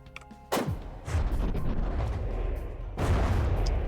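Several deep booming explosions in the video game From the Depths go off one after another, with heavy rumbling low-end and crackling debris between the blasts.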